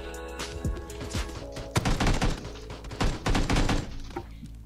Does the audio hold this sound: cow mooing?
no